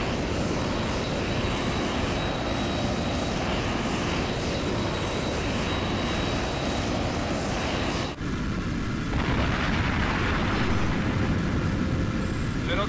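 Fighter jet engines roar steadily in the Tom Clancy's H.A.W.X. flight game, a dense continuous rush that drops and shifts tone partway through as another engine surge takes over, loud and without pause.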